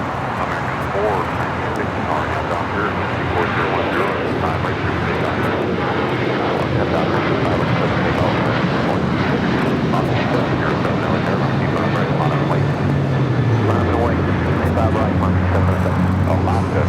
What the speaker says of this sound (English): Next takeoff here on the south side is Alaska Airlines Flight 6 heading to Reagan National